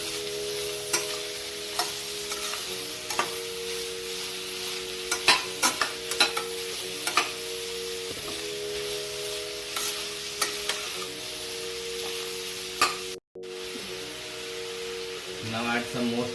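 Potatoes being stirred and fried in a pan for vegetable pulao, a steady sizzle with repeated scraping stir strokes, close and continuous, with some background sound under it.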